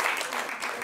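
Brief, soft applause from a small audience at a pitching workshop, a short wash of clapping heard at a distance.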